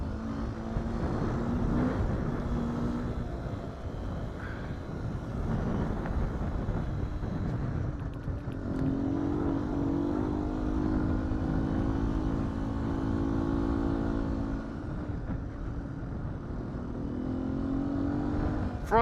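A 2019 Beta 125 RR-S dirt bike rides along a trail road, its engine droning steadily with small pitch rises and falls over continuous wind rush at the microphone.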